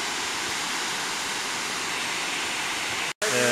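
The waterfall at Güzeldere nature park in Düzce, heard from a viewing terrace, makes a loud, steady broadband roar of falling water that continues without a break apart from one short cut near the end.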